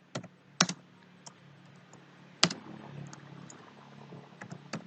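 Program code being typed on a computer keyboard: quiet, irregular key clicks, with a few sharper, louder strikes standing out among softer taps.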